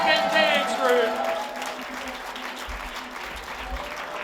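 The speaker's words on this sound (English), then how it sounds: "a big round of applause for the lucky African dance group" An audience applauds an African dance group at a live event, a broad sustained clapping that is loudest at the start with a raised voice over it, then settles into steady applause.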